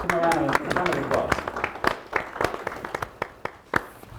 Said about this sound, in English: Come around and round of applause.